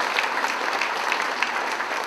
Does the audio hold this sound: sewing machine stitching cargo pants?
no